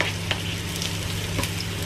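Onions frying in a little added oil while mung bean stew (munggo) is being prepared: a steady, close sizzle with faint stirring clicks and a low hum underneath, with no talking.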